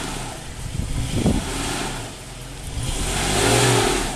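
A stuck car's engine revs up and eases off as the driver rocks it back and forth off-road at Koke'e, a steady mid-pitched drone that swells and dips, fairly loud and close.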